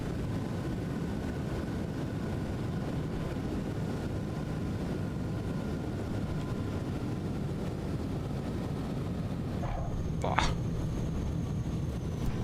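A Buffalo Airways DC-3 touches down on a lit runway in Microsoft Flight Simulator, with a steady engine drone throughout and a brief sharp burst near the end as the wheels meet the ground.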